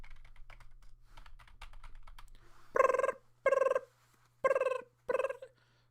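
Arlo taps away at a computer keyboard, first in soft scattered keystrokes, then in four loud, sharp bursts of rapid typing close up, with no voices.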